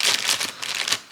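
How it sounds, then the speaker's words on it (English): A perforated plastic bag from microphone packaging crinkles close to the mic, with continuous bright rustling and a few sharper crackles across about a second. "So we've got the plastic bag."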